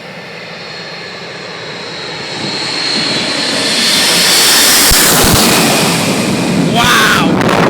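A Boeing 747 landing low overhead at St. Maarten: broadband jet engine roar swells over several seconds to a loud, close peak, with wind-like rush and brief thumps near the end.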